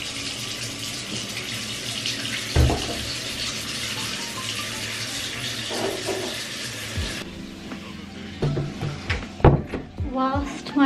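Water runs steadily into a bath at home, a loud continuous rushing that cuts off partway through, followed by scattered clinks, knocks and household handling sounds.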